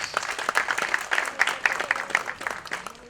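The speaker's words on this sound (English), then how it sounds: "Big round of applause for all the jury members." Audience applause fills an auditorium at an idea pitch event, honouring the jury members: steady, dense clapping from a sizable crowd throughout, moderately loud with no voices over it.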